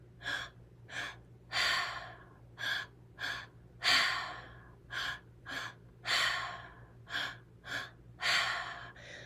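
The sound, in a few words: deep audible breathing through the mouth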